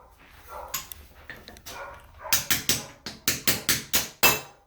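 A gear tapped onto a transmission shaft while a CRV transmission is being built: a run of about eight sharp, evenly spaced hammer taps, close and loud, after a few softer knocks and handling sounds.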